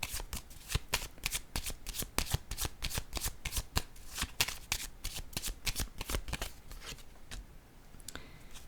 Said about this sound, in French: Là, je vais déposer une carte en haut.